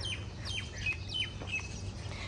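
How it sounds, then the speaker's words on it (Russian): Small birds chirp and tweet on a bright summer morning, with several quick overlapping calls heard at a moderate distance over quiet background noise and no talking. "птички поют"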